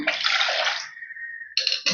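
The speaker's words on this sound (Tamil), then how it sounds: "கொஞ்சம் தண்ணி சேர்த்து ஊற்றிக்கிறேன்" Water splashes and pours steadily into a pan of lentils for sambar for about a second, then a thin trickle, followed by two short bursts of pouring.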